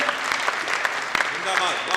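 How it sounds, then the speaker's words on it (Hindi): An audience claps loudly for the police at a public event, a dense steady applause with scattered sharper claps and a voice or two faintly mixed in. "एक बार जोरदार तालियां पुलिस के लिए बजाइए"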